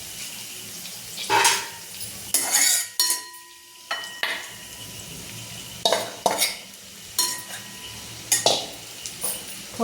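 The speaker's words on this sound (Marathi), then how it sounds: "आता आपण घेऊ साबुदाणा टाकून त्याच्यात" Sago pearls being stirred into cooked potatoes in a pan: irregular scraping and stirring strokes with light sizzling and a faint watery clatter of the pan, close and moderately loud, with no talking.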